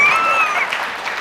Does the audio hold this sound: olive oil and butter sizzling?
no